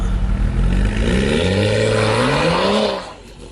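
A BMW 335i and a Jeep SRT accelerate hard together, turbocharged engines rising in pitch through a loud sustained pull before the noise drops away sharply near the end.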